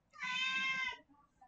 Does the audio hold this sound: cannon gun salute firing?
no